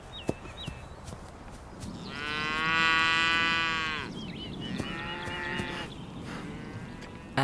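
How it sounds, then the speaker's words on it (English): Cows and calves moo back and forth, a long loud call in the middle followed by a shorter answering moo, with fainter distant calls and bird chirps around them, no talking. "Cow and calf recognize each other from afar by their voices."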